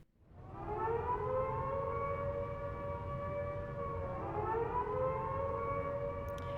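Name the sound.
citywide alert siren in Xenoblade Chronicles X video game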